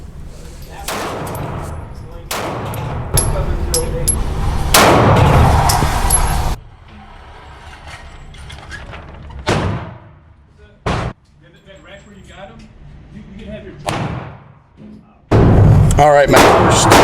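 Springfield Armory Hellcat pistol firing at an outdoor range, loud sharp shots in several bursts with quieter pauses between them, and people talking in the gaps.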